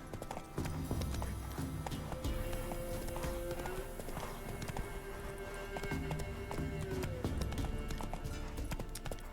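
A horse gallops in The Witcher 3 video game, with rapid, steady hoofbeats that keep a rolling rhythm throughout and a short, faint break partway through.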